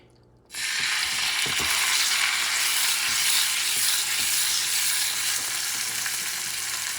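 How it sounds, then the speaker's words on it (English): Fresh tuna hits a hot oiled pan and erupts into a loud, bright, continuous sizzle after a brief quiet start, close and steady throughout, with faint occasional knocks underneath. "I'm going to sear this baby."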